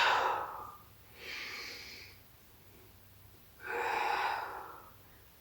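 Heavy breaths during a back extension exercise: a sharp close exhale, a softer breath, then another long audible exhale after a quiet pause, each a breathy rush.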